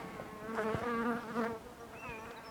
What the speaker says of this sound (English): nice colony of bees on Langstroth frames